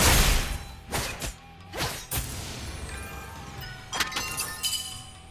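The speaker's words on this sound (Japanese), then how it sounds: "敵の石像を破壊した。" An enemy stone statue is destroyed in Onmyoji Arena, with several loud shattering crashes and thuds of breaking stone, spaced across the clip, over background game effects.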